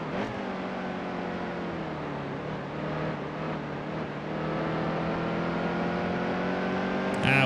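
Race car engine in NASCAR Heat 2 during an Xfinity Series road-course race, a sustained loud droning tone that steps and shifts in pitch as the car works down through the gears, with a brief sharp burst at the end.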